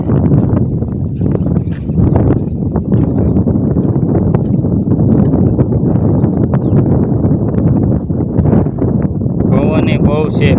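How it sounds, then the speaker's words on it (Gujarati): Strong wind sweeps across a village farm field readied for sowing, a loud, steady rumbling buffet against the microphone that persists throughout, with voices faintly mixed in at times. "પવને બહુ છે મિત્રો, પવને બહુ છે"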